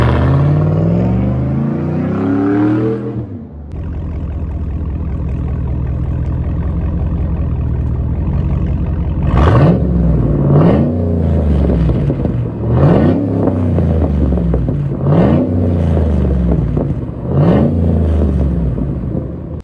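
A 2008 Cadillac Escalade engine rises through a long revving pull, drops, idles with a rumble, then blips repeatedly in sharp, loud rev bursts roughly every two seconds, recorded up close with no voices.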